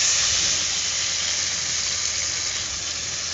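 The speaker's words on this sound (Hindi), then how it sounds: "और मछली को अच्छे से फ्राई करेंगे।" Fish frying in a pan in a home kitchen, a loud, steady, bright sizzle and hiss that continues unbroken throughout, close up.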